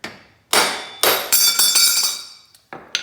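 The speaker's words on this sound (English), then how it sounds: "tap it with a hammer to get it off" Sharp metal-on-metal hammer blows on a punch driving a pulley off a 21hp twin racing mower shaft, about seven ringing strikes at uneven intervals, close and loud with no talk.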